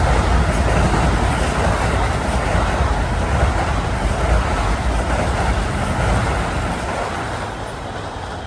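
Long Island Rail Road commuter train passing at Queens Village station, a loud continuous rumble and clatter of wheels and cars that fades slightly toward the end.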